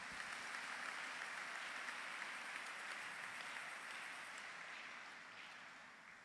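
A church congregation at a French-language sermon applauds steadily, a sustained wash of clapping from many hands that holds level and then gradually fades toward the end.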